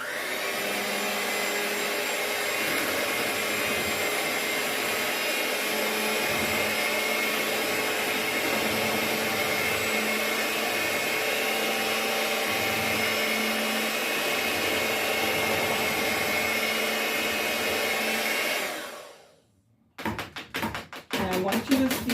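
An electric mixer beats cheesecake filling with sour cream, a steady loud motor whine that runs unbroken for about nineteen seconds before cutting off, then a few clattering handling noises follow.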